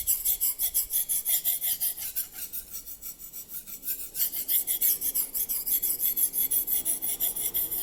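A Racer M knife is drawn steadily across a Japanese whetstone, giving a regular rasping scrape of roughly two strokes per second that stays close and even with no talking.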